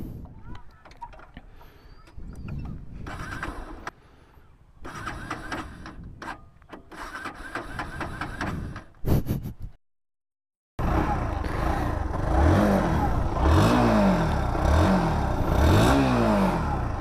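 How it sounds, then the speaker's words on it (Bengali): A Bajaj Pulsar NS160 motorcycle with an underbelly exhaust starts after some talk and a brief silence, then revs loudly several times in rising and falling sweeps over a steady close idle. "so let start the engine"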